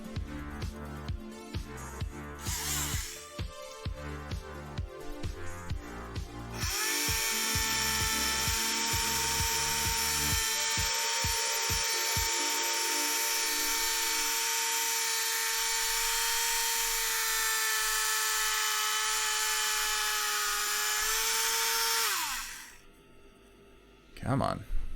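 A small hobby drill fitted with a 0.8mm bit whines steadily and close as it bores into a miniature base, starting after some clicking and handling, then winding down near the end; a voice speaks briefly over it.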